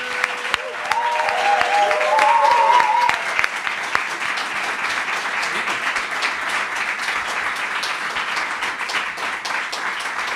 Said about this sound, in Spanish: este aplauso al público es para ti